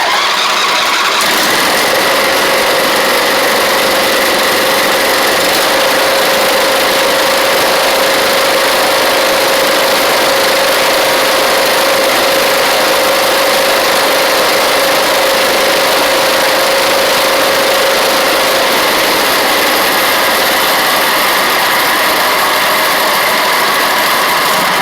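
A Craftsman ZTS7500 zero-turn mower engine, just fitted with a replacement carburetor, catches and runs loud and close, holding a steady, even idle drone for over twenty seconds.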